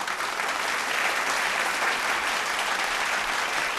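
An audience at a televised vocal battle show applauds to welcome a guest judge, a dense, even burst of clapping held for a few seconds.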